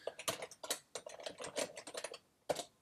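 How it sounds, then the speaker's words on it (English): Someone types an account ID on a computer keyboard, a quick, uneven run of close key clicks with short pauses and one last burst of taps after a brief gap. "I will type in my account ID"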